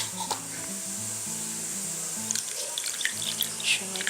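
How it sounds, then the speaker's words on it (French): Water poured into couscous being made in a Moroccan-style dish, a steady splashing trickle with faint drips, close and continuous, a murmur of low sound underneath. "Je mets de l'eau."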